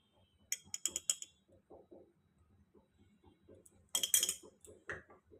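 A spoon clinks and scrapes against a bowl while ingredients are mixed with cornflour in a home kitchen, in short irregular bursts with quiet gaps, near and fairly faint.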